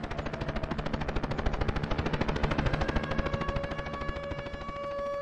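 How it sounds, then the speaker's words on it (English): Rapid automatic gunfire from a video game, a dense rattling burst of shots that continues for several seconds, loud and close. "Oh! Gunshots."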